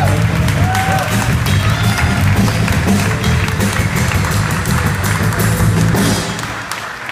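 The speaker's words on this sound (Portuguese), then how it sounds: "Merece umas palmas, galera." An audience applauds at a Portuguese-language stage presentation, a dense, sustained wash of clapping and crowd noise that holds steady, then thins out near the end.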